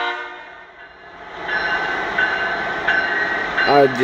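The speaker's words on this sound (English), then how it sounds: "here comes the 4th train that the overnight shitbags have sent through since midnight" Train rolling past a house right beside the tracks at about 2:30 at night, a steady close rumble that builds louder, with a short horn blast near the end.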